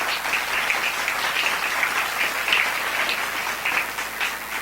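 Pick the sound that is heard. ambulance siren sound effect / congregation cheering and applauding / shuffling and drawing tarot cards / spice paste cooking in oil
congregation cheering and applauding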